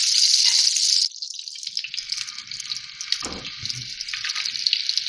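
Peshawari seekh kebabs fry in a little oil, giving a loud, bright hiss that drops after a moment into a continuous crackling sizzle with a soft thump partway through, heard close and alone.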